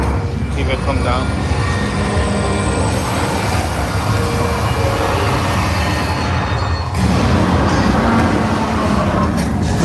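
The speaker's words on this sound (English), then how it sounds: "Comes the train." A train ride at Universal Studios Hollywood rumbles loudly and continuously, with steady low mechanical noise, wheel and rail clatter, and crowd voices mixed in throughout.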